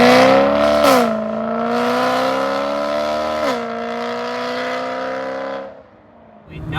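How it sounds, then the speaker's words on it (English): A BMW E92 M3's exhaust, with a custom double X-pipe and valved mufflers, drones loudly as the engine revs steadily, its pitch climbing and dropping twice before cutting back near the end. "Now it's smooth exhaust in the sound."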